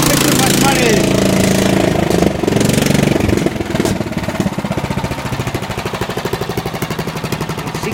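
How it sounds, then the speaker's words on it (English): A commercial lawn mower engine runs loud and close throughout, a steady rough mechanical drone that settles into a rapid pulsing chug in the second half. "that's my first commercial lawnmower"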